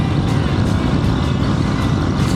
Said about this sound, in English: Like when you reach 120, the engine starts crying